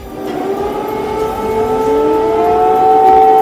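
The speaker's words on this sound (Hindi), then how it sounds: "वहां लगातार सायरन बजते रहे" Air raid sirens wail steadily, their tones slowly rising and overlapping, sustained and fairly loud throughout.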